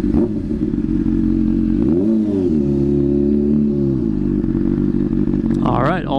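A sportbike's engine rumbles close and loud at night in a steady deep drone, swelling briefly as it revs before settling back, with a faint higher whine near the end.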